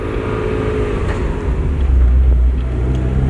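A manual sports car's engine drones steadily, then its low rumble shifts and deepens around a gear change, loud and close from inside the cabin.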